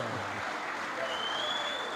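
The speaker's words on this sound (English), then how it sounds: "A big round of applause for Adotolo." Crowd applause at a Patriotic Front (PF) campaign rally in 2021, a dense steady patter of clapping lasting a couple of seconds with a faint whistle-like tone partway through.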